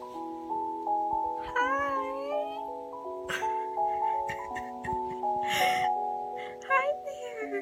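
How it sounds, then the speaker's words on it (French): A cat meows repeatedly over a steady bed of sustained music, the cries rising and falling in pitch at irregular moments, fairly close and clearly audible above the backing tones. "elle nous présente un chat"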